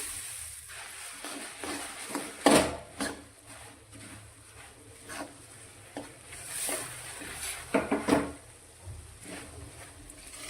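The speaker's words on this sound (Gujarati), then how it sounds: "અને મમરા જે લીધા છે તેને એડ કરી અને મિક્સ કરીશું" Puffed rice being stirred into hot jaggery syrup in a pan, heard as irregular close scraping and rustling strokes with occasional sharper knocks of the spoon against the pan, no voices present.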